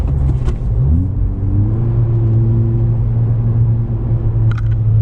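A 2020 Honda Civic Si in sport mode accelerating hard in second gear, engine drone rising steadily and close by, with a few faint clicks over it.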